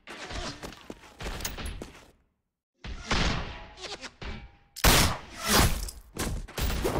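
Sharp gunshots and heavy impacts from The Walking Dead: A New Frontier game crack in irregular bursts, broken by a brief silence before louder, closer volleys resume.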